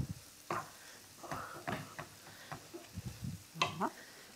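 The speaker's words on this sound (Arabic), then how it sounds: "هنا البصل تاع الاشي بارمونتي راهو يتحمص" Onions frying in a pan for hachis parmentier: a faint sizzle broken by scattered scraping stirs and light clicks of a utensil against the pan, close and quiet.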